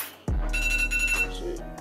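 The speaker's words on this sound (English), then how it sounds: "I got alarms going off so I can make sure I'm up on time" An electronic wake-up alarm starts abruptly and rings in a steady buzzing, beeping tone, fairly quiet and heard on its own.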